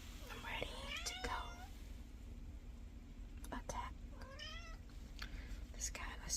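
A cat meows several times in short rising, wavering calls, close by, mixed with whispered talk in a quiet room.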